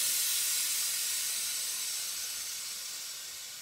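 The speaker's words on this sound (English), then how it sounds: "so that you can get the gas out of there" Pressurised gas hisses out of a home-brew beer keg being purged of oxygen before filling, a steady bright rush of air that slowly tapers in loudness, close and alone.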